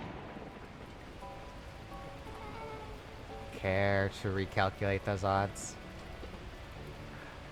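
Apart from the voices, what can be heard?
torrential rain in the video game Beacon Pines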